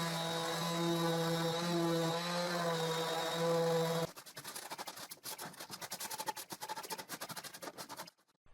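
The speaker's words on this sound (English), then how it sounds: "And I sand the cuts I have just made." Power sanding along the freshly cut splined miter joints of a handmade wooden box, a steady loud motor whine for four seconds, then a rougher, uneven scrubbing that stutters on and off before stopping.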